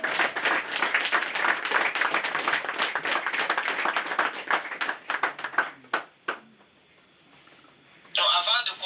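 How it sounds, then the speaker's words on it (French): A church congregation claps together in dense, lively applause that thins out into scattered claps and silence, followed by a brief electronic tone. "On applaudit."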